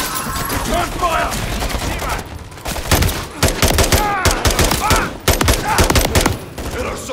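Rapid bursts of automatic gunfire and scattered shots from a firefight in the video game Call of Duty: Modern Warfare III, loud and continuous, with shouted voices mixed in.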